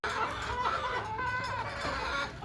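Chickens cluck steadily and close by, a dense overlapping chatter of hens with no pause, as they are brought food scraps near their pen.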